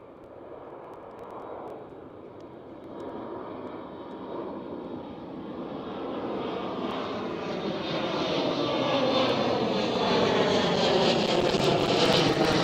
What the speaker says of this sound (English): That was a KLM City Hopper.